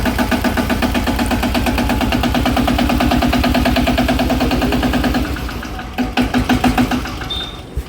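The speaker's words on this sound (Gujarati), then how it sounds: "ટ્રેક્ટરનો અવાજ પણ એકદમ ટનાટન છે ચૌદ હોર્સ પાવરનું એન્જિન છે" A 14-horsepower mini tractor engine runs with a fast, even chugging beat, then drops to a lower, choppier idle for the final few seconds.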